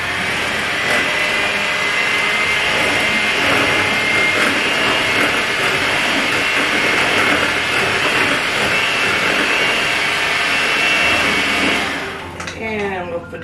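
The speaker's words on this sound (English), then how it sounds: "And we're going to use the noisy mixer." An electric hand mixer beats strawberry shortcake batter in a steady, loud, continuous whir that runs for about twelve seconds before cutting off.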